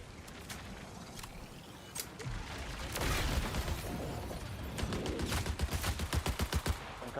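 Rapid bursts of gunfire in a Bungie extraction shooter, dense shots crackling over a busy game mix, growing louder and more rhythmic toward the end as a close weapon fires in quick succession.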